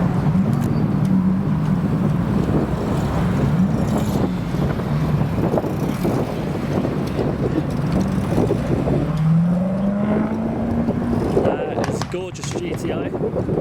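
A Griffith sports car leaving a car show, its engine note rising and shifting as it pulls away past the crowd, heard against steady wind buffeting on the microphone.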